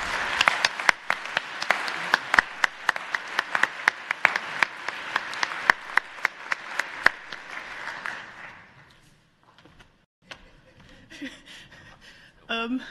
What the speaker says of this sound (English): I suggest now we give Ricky a very warm round of applause and thank her so much